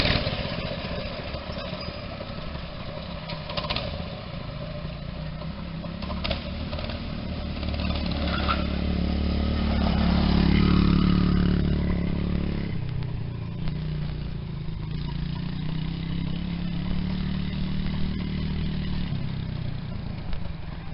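A small go-kart engine runs continuously with a buzzy, steady drone, swelling louder as it revs near the middle before settling back to an even run; no one speaks.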